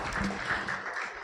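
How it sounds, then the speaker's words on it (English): A crowd claps in a steady wash of applause, brief and moderately loud, with no speech over it. "let's give him a round of applause as well"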